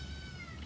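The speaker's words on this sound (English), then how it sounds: "If you hear some noise in the background, it is my cat who wants to get out." A young kitten meows once in the background, a brief faint cry near the end that sounds like it wants to be let out of a room.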